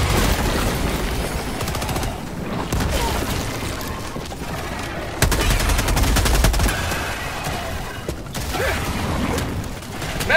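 Heavy gunfire and explosions in the video game Helldivers 2, with a grenade thrown amid bursts of automatic fire and booms. The combat stays loud and dense throughout, with a sharp blast near the middle.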